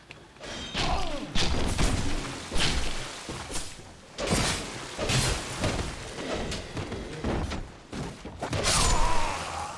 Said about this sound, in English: we died in a horrible way because of the fall damage